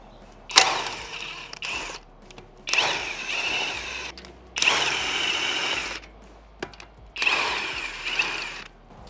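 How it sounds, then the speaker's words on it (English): An impact wrench spins lug nuts off a Tesla wheel in four loud, close bursts of buzzing whir, each about a second long, separated by short pauses, with no talking. "I'll just quickly get the rest of them off with the impact since we have it"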